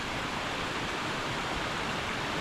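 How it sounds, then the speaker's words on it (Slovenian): Water cascades down a series of small waterfalls into a river, a steady, dense rushing hiss heard close and unbroken, with no voices over it. "čez te vse slapovčke, se tole zliva dol v reko"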